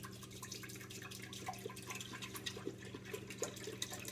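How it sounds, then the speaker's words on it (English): A half gallon of vitamin D milk pours into a pot on the stove for homemade cottage cheese, making a faint, continuous soft trickle with scattered drips. "I got a half gallon milk here I'm pouring into the pot."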